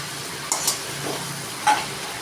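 Fish heads fry in a tomato spice masala, a steady sizzle broken by a few sharp spatula scrapes and clinks against the pan at close range, with nobody speaking.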